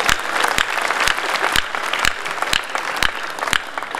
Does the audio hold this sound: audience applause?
yes